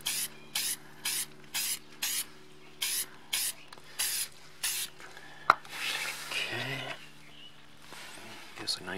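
Acrylic finishing spray from an aerosol can, applied over a stamped card in short bursts: about nine evenly spaced hissing sprays, then a sharp click and quieter handling sounds with some shuffling.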